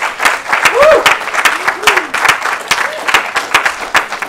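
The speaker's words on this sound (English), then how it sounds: "Could you give them a clap and a good applause?" Several clear hand claps ring out at a London evening event while voices and a sung or called-out tone carry over them; the clapping sounds sparse rather than a full ovation.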